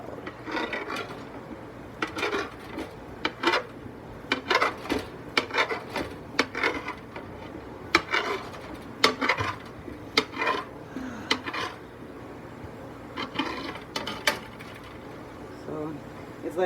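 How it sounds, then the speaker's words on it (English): A knife chops on a loud cutting board in a home kitchen while a pot sits on the stove. Irregular sharp knocks and scraping rasps are close and clear, with a person talking intermittently. "This cutting board is so loud."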